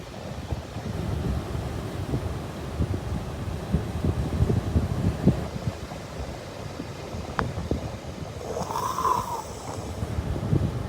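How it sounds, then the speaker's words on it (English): Wind at a sunset outdoors in Mazunte buffets the microphone with steady, rough, low rumbling gusts throughout, loud and close, with a faint brief tone near the end. "It's very windy."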